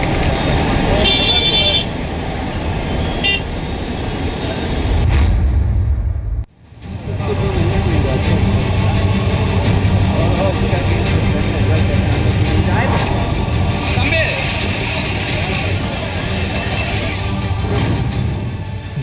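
Dense city traffic jam on a rainy Indian street, likely Mumbai or Bengaluru, with a steady roar of engines and a brief high car horn toot, then a longer sustained horn blast later, continuous and close throughout.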